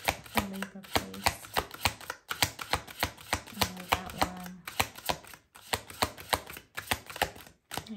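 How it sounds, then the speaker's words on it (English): Tarot cards being shuffled by hand in repeated crisp bursts of riffling and slapping, close and fairly loud, separated by short pauses, with no talking. "all that shuffling I just did"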